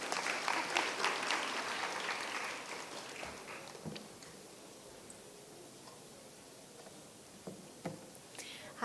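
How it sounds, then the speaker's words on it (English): Audience at a gender equality and disability summit applauding to welcome a speaker, a fairly quiet patter of clapping that fades out midway, leaving faint room noise and scattered small sounds. "Let's clap together once to welcome."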